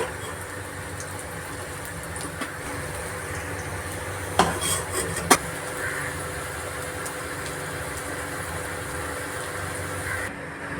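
Sliced snake gourd (chichinga) fries in a pan with a continuous low sizzle, broken by a couple of sharp metallic clinks of a utensil against the pan.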